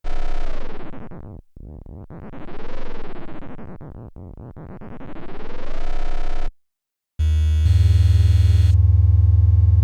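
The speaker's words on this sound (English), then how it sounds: "if you turn it up, you get a different flavor of aliasing and quantization errors" A Waldorf Microwave synthesizer gives harsh, buzzy tones that sweep down and up in pitch with gritty aliasing and quantization distortion, then cut to a brief silence before a static, grainy distorted drone.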